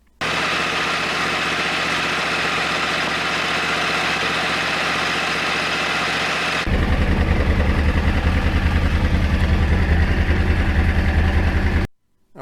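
A 2009 Yamaha R1 crossplane motorcycle engine runs at a steady, buzzing idle, then shifts to a deeper, throbbing, lumpy rumble at about the midpoint before cutting off abruptly near the end, close and loud throughout.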